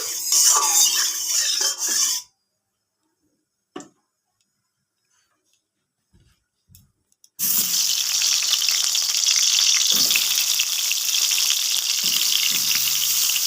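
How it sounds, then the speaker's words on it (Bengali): Pointed gourd pieces fry in hot mustard oil in a covered pan over a medium gas flame, giving a loud, steady hiss that cuts out for a few seconds before resuming just as strong. "আমি খুব ভালো করে ঢাকা দিয়ে পটলগুলো ভেজে নিচ্ছি।"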